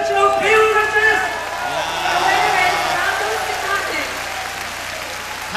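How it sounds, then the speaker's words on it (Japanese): An arena crowd at the 1993 K-1 World Grand Prix kickboxing semi-final applauds steadily after a knockout, heard as a broad wash of clapping beneath commentators talking. "館内からは拍手も沸き起こっています。"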